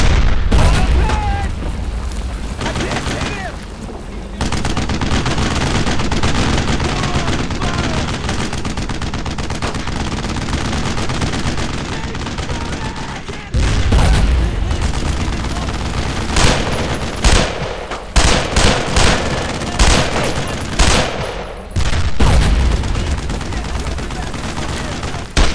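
Gunfire rings out through a World War II firefight in the video game Brothers in Arms: Road to Hill 30. Rifle shots and machine-gun bursts crack over and over alongside heavy booms, while shouted voices cut in between the volleys.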